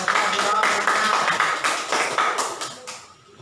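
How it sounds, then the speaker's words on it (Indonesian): A fifth-grade class claps for a classmate in a lively flurry of overlapping hand claps, close and fairly loud, fading out in the final half second. "Tepuk tangan bagi temannya."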